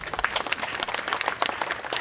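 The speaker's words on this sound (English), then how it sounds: "let's give him a round of applause also" A crowd at an outdoor July 4th community band concert claps, a brief, lively patter of many hands with individual claps standing out, steady throughout.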